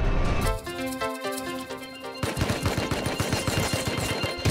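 Automatic gunfire from an AK and a Tommy gun in the survival game Rust, with loud rapid bursts that grow denser and harder-hitting in the second half, and no voices.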